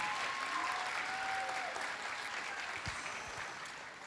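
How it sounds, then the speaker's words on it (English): Faint, distant applause from an audience at a youth program's culminating ceremony, a steady wash of clapping heard from far away. "So let's give them all a round of applause."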